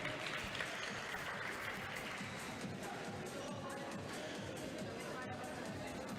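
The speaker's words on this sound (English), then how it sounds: "Can we have a round of applause for Auguste Dussourd and Victor Crouin." Crowd applause for squash players after a European championship final, a steady wash of clapping spread across a large audience with faint chatter mixed in, continuing throughout.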